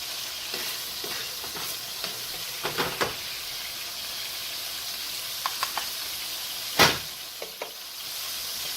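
Oil and water from chopped meat sizzling in a pan for sloppy joes, a steady close hiss with scattered spoon taps and one louder burst of spitting near the end.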